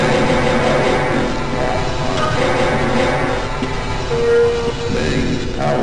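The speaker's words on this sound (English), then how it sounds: "Alright, so I have to get the tram there." In the Half-Life video game, a tram rolls along its rails with a steady, loud rumbling drone and faint rhythmic clatter throughout, with a brief tonal whine near the end.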